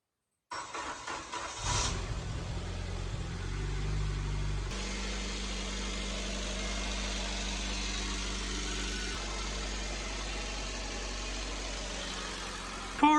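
Mitsubishi Evo X fitted with an ETS intake cranks and fires up after a moment of silence, a short whirring start followed by a steady low, even idle rumble that continues close and alone for over ten seconds.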